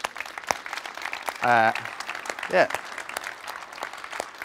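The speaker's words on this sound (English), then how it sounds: "give yourselves a round of applause for the great work that you're doing" An audience at a coaching conference applauds steadily in a hall, dense continuous clapping throughout with a couple of short cheers or shouts cutting through.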